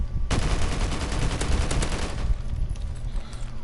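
AK rifle fire in Call of Duty Modern Warfare: a loud, rapid automatic burst of close gunshots runs for about two seconds, then breaks into scattered shots before fading to background noise.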